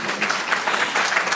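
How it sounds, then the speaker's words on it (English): Lecture audience at an early math education talk applauding, a steady dense wash of many hands clapping throughout the short stretch, fairly loud and close. "And you can clap,"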